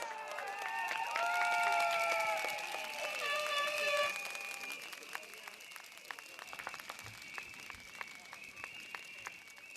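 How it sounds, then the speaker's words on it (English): Applause and cheering from a crowd at a People's Action Party political rally at North Vista Secondary School in Sengkang, loud and sustained for about four seconds before thinning into scattered claps. "Round of applause"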